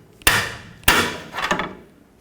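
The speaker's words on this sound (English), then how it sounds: "I'm going to use a pry bar and a hammer and punch that off of there." A hammer strikes a pry bar set against a one-time-use tie rod clamp on a 2001-2007 Volvo V70: two sharp metallic blows, then a softer, rattling pair of hits, all close by with no talking.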